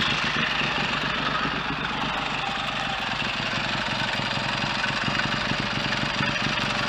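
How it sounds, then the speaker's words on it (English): A Triton motorcycle engine fitted with McCuney carburetors idles alone at close range, its tick-over steady but slightly fast and jittery, with a continuous rumbling drone throughout. "now I've got them both going together, the tick over is still a bit fast and jittery"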